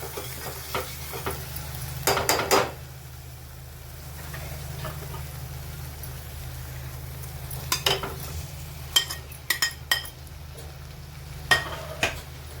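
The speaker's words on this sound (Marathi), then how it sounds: "आता पनीर पण आपण मसाल्यामध्ये थोडंसं त्याला मिक्स करून घेऊ" Fried paneer is stirred into an onion-tomato masala in a pan, a soft continuous sizzle under a low steady hum, punctuated by sharp clusters of spatula scrapes and taps against the pan.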